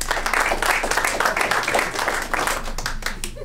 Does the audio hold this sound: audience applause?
yes